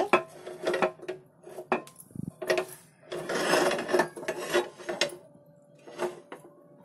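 A cooking pot on a lit gas stove being opened and handled, a series of close metallic clinks, scrapes and rattles in irregular bursts with quiet gaps between.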